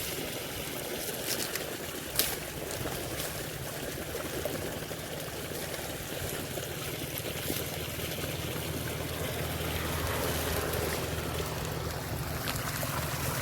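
Irrigation water flows through a farm field with a steady, moderately loud rushing and trickling, continuous for the whole stretch with no one talking.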